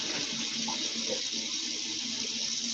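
Kitchen tap running steadily to measure water for homemade bread dough, a constant loud rushing stream that fills the whole moment with no talking.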